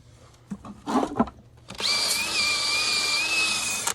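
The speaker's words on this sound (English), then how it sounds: "So this hoof buffy really makes it look good." A hoof buffy power tool smooths and shapes a horse hoof's Mustang roll, starting after a few scuffs and handling noises and then whirring steadily at close range with a high, sustained grinding whine.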